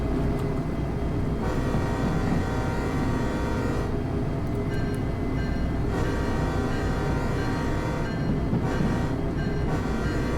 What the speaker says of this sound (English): Sound the horn.